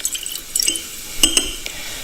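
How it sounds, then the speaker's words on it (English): Liquid poured from a measuring cylinder into a glass beaker, 50 cubic centimetres in a chemistry lab, giving soft trickling with a few bright clinks of glass, fairly near and brief. "I'm going to pour that into the beaker."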